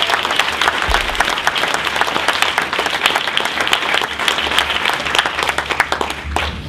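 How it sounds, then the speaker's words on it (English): Workshop audience at a social forum gathering bursting into sustained, dense applause, many hands clapping loudly and steadily throughout with no voices standing out. "So I think we should give a round of applause."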